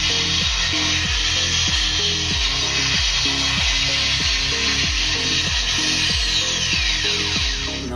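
A 1984 Kenner Real Ghostbusters proton pack toy plays its electronic sound effect loudly and steadily, a looping pulsing buzz with repeated rhythmic stutters about every half second, running continuously with no talking.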